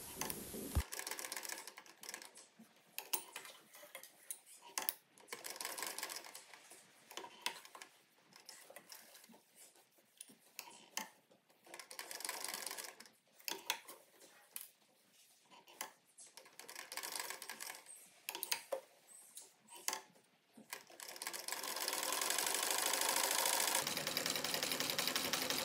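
A sewing machine stitches a neck cooler made from a towel-like cloth, giving a rapid, steady mechanical chatter in uneven runs with brief pauses, followed by a smoother continuous whir near the end.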